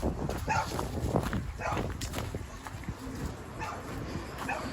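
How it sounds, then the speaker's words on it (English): A dog barks several times at a passer-by on a city street in Newark, New Jersey, the barks moderately close and mixed with the walker's talking and street background. "this dog has to bark at me"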